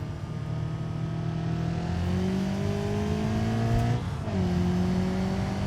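Car engine in the BeamNG driving game held at full throttle, a loud steady drone with rising harmonics, briefly dipping near the end before climbing again, with no talking.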